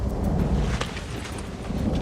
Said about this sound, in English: There's a storm coming.